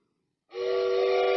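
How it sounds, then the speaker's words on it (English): A steam train whistle bursts in loud and sustained, a steady tonal blast with a hissy edge that holds to the end. "he heard a very ghostly whistle."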